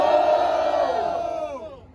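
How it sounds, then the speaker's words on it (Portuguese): A crowd at a Brazilian street rap battle cheers and shouts for one rapper, a brief burst of massed voices that fades out within two seconds, heard at moderate distance. "Barulho e mão pra cima, quem gostou das rimas de KPV."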